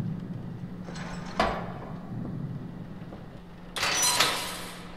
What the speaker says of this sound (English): that thunder can fuck right off.